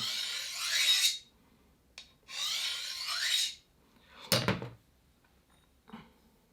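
A recurve knife blade is drawn along a sharpening stone, giving three or four rasping strokes, each about a second long with pauses between, close and fairly quiet, with a sharper tap partway through.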